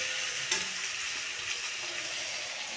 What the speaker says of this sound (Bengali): নতুন আলু টমেটো মটরশুঁটি দিয়ে রান্না করছি আলুর দম